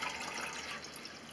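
Distilled water pouring steadily from a container, a continuous splashing hiss of liquid, close and fairly loud, with no talking.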